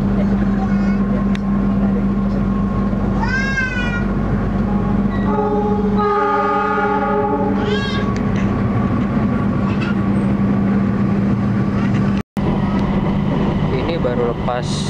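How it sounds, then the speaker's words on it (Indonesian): Interior of the Argo Lawu express train running at nearly 110 km/h after leaving Jatinegara station, a loud steady rumble throughout with a horn sounding midway and someone talking over it. "Kereta api Argo Lawu langsung digeber dengan kecepatan hampir 110 km per jam."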